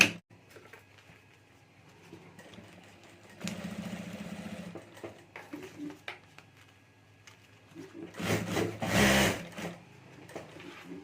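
A sewing machine stitches the seam of a homemade clutch purse, running in bursts with pauses between, the loudest run coming near the end, with faint background noise and no clear talk.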